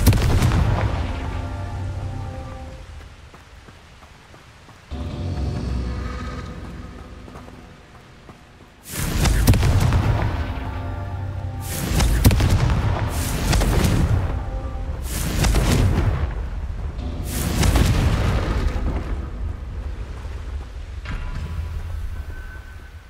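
Repeated Confringo explosive spell blasts in Hogwarts Legacy, about five loud booming bursts at a steady rhythm that each cut through the quieter game ambience, with no talk.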